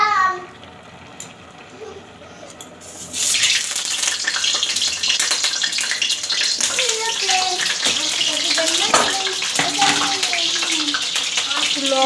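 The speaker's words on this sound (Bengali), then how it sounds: "আমি আলু কটা ভেজে নেবো, ওই জন্য কড়াই তেল দিয়ে দিলাম প্রথমে" Potatoes sizzle in hot oil in a wok, a steady, bright frying hiss that starts abruptly after a few quieter seconds and carries on loudly with small crackles and clatters.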